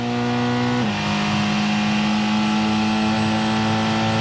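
A Porsche 919 Hybrid prototype race car accelerates on the Le Mans circuit during the 2016 24-hour race, heading toward the Arnage corner. Its loud, steady engine and drivetrain whine drops in pitch briefly, then holds on without any voices.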